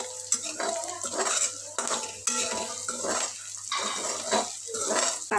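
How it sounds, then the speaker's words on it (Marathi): Salted onions are stirred in a pan, sautéing toward golden brown: bursts of close spatula scraping and clattering in a loose rhythm over a faint hum, with little audible sizzle. "कांदा चांगला सोनेरी कलरवर परतून घेऊ।"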